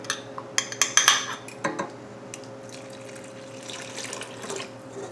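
Yeast and milk mixture poured into a mixing bowl of cinnamon roll dough, opening with several sharp clinks of bowl and utensils, then a soft, steady liquid trickle with no talking.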